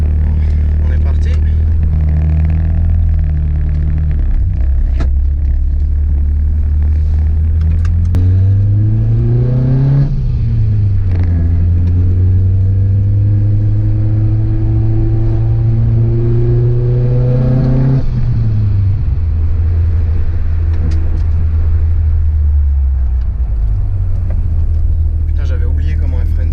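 A Golf 2 GTI 16V turbo engine drones steadily, then revs up twice in rising sweeps before settling back, loud and close, with a voice talking over it.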